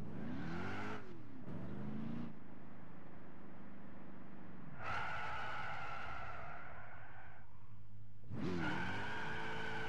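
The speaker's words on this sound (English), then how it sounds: "throw it in first gear and just do the burnout" A car in Gran Turismo 6 multiplayer does burnouts, engine revving hard over squealing, skidding tires in several loud bursts separated by quieter hissing stretches.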